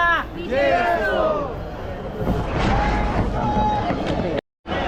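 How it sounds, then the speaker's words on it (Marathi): Dense crowd noise along the Lalbaugcha Raja darshan line during Ganesh festival, a loud continuous babble of many voices close around, with someone talking over it and a brief dropout near the end. "इथे गर्दी आहे इथे दर्शनासाठी"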